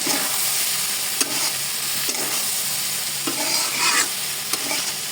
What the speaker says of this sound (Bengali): যতক্ষণ পর্যন্ত না জলটা শুকায় ততক্ষণ পর্যন্ত নাড়তে থাকবো